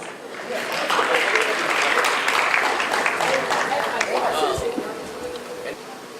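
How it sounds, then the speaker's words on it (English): An audience at an awards ceremony breaks into sustained applause that swells and holds, with some chatter and cheering mixed into the clapping. "Let's give her a warm round of applause"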